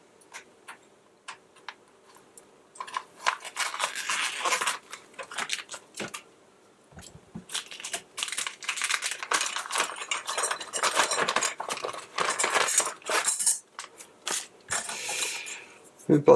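Plastic packaging holding an HGLRC Sector5 V3 drone frame part is opened nearby, with a run of crinkles, taps and rustles broken by short pauses.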